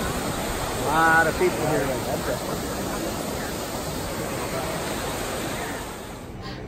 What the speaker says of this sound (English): There's the Trevi Fountain on Sunday morning.